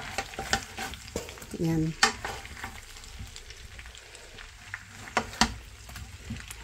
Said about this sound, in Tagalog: tunaw na po yung butter, ilalagay na po natin yung ating potato